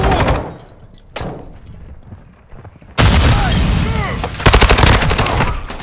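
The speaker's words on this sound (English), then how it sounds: "Taking effective fire!" Gunfire and explosions in the video game DMZ, scattered shots at first, then loud heavy bursts of fire with booms and whizzing effects growing denser toward the end.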